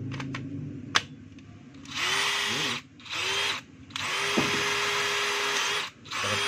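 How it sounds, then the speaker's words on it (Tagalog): A DeWalt DCD796 18V XR cordless drill runs in short bursts. A close, buzzing motor whine spins up and cuts off about four times, with brief gaps and small clicks between runs and no talking. "Testing natin yung drill mga kabay."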